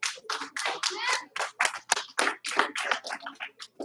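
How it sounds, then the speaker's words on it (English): Students in a classroom clap for a classmate in quick, sharp bursts of many hands, loud and close, with short gaps between the rounds of claps. "Give him 2 claps."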